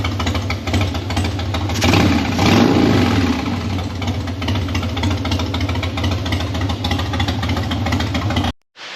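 A Harley-Davidson Dyna motorcycle engine, slightly warmed up, idles on its own with no choke and no throttle, giving a steady, loud, close lumpy rumble with a slight swell near the start before it cuts out at the very end.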